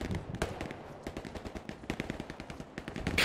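Rapid automatic gunfire from a shooter video game, dense bursts and cracks firing continuously throughout, loud and close with no voices over it.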